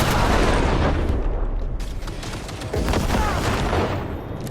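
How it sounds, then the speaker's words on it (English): Heavy gunfire in the video game Cyberpunk 2077: dense bursts of shots and booms fill the whole stretch, loud and continuous with brief dips, no talk over it. "Open and fire! Keep firing!"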